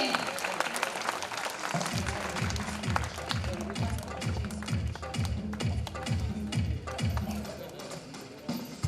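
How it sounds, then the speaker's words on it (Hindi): Loud, steady applause for school students at an award ceremony, a crowd clapping continuously throughout with rhythmic patter and a few faint voices underneath. "जोरदार तालियां सभी छात्रों के लिए"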